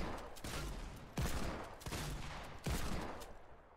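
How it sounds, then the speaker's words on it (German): Heavy Shotgun blasts in Fortnite Battle Royale Season 8, fired at blocks to break them, come as a series of loud, booming shots spaced roughly three-quarters of a second apart, each with a heavy low thump and a lingering tail. "Hier bekommt man jetzt eine Heavy Shotgun, damit man immer hier insgesamt die 14 Blöcke kaputt machen muss"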